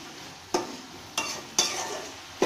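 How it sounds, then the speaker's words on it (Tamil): Grated coconut and mint leaves sautéing in a pan for chutney, a steady frying sizzle broken by three or four sharp scraping stirs spaced roughly half a second apart, close and alone. "போட்டு நல்லா வணக்கிடுங்க."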